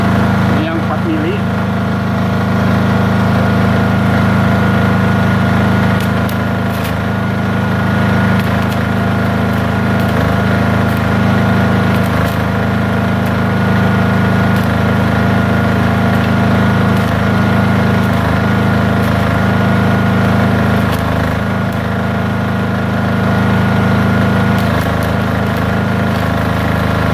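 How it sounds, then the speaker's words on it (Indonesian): Engine of a welding generator set running loud and close with a deep, steady drone and a constant pulsing low throb, the pitch lifting slightly as it revs up and holding high. "Jadi suara gensetnya naik ya"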